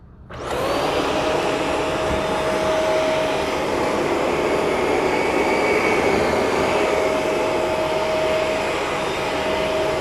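A Shark vacuum cleaner runs steadily on carpet in a golf course villa, starting up with a rising whine and holding a loud, even roar with a constant motor tone throughout, no talk.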